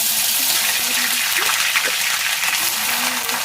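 Cinnamon, cloves, bay leaves and cardamom frying in hot oil in a kadai give a steady, dense hiss and crackle that holds level throughout, with faint background tones underneath.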